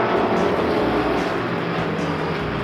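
A race car's engine droning loud and close at high revs while accelerating out of a corner, a continuous throaty roar with slight pitch shifts, no talk.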